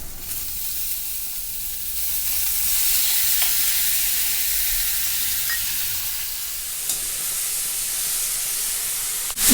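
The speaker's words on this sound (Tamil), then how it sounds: "எண்ணெய் வச்சுட்டு கடுகு, உளுத்தம்பருப்பு, ஒரு 2 மிளகாய் கிள்ளி போட்டிருக்கேன். வெடிக்கட்டும்." Steady, close sizzling and crackling of mustard seeds, urad dal and dried chillies frying in hot oil, a continuous bright hiss with scattered pops, no voices.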